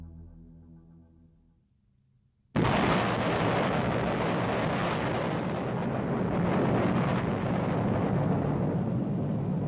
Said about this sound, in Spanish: Es la primera explosión nuclear de la historia